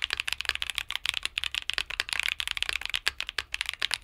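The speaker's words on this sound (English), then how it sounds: "in terms of the sound and feel, specifically of the key presses" Rapid clacky key presses on a Keychron Q60 Max mechanical keyboard with tactile switches, crisp and close, in quick irregular bursts like steady typing.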